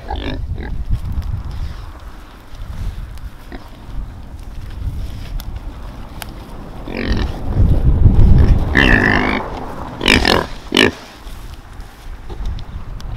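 Kunekune pigs grunt and snort at feeding time, with several bursts of rough grunting and short squeals over a noisy outdoor background, and a person talks in places.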